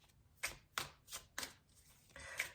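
Tarot cards being shuffled by hand, a series of five or six crisp riffling bursts at a steady pace, close and fairly quiet, with no talking.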